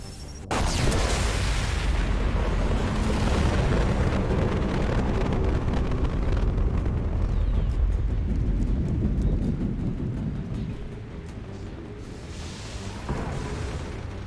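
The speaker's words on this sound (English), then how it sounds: "It's about to explode." A big explosion in Mass Effect 2 Legendary Edition opens with a sharp blast, then a heavy, sustained rumble and roar of debris that slowly fades over many seconds, with no voices.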